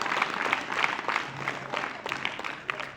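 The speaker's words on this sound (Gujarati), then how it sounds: "તાળી ફરી એકવાર" Audience clapping at a small community gathering honouring a girl, a steady patter of many hands lasting the whole stretch at moderate loudness, with a faint low hum underneath.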